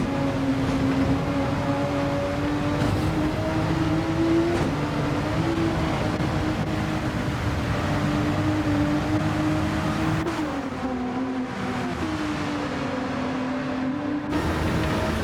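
A race car in Gran Turismo 7 runs through a wet manufacturer cup race, with a loud sustained engine drone that shifts pitch through gear changes and a constant spray hiss, and no speech.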